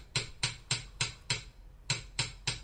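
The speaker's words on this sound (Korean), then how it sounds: "망치질로 시작해서 망치질로 끝나는 인고의 과정" A hand hammer strikes a silver kettle being shaped by a craftsman, eight sharp metallic blows at a steady rhythm with a short pause midway, close and clear.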